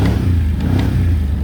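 A 2021 Can-Am Outlander 850 XT ATV revving at full throttle, a loud, close, steady engine roar with a gritty mechanical rattle.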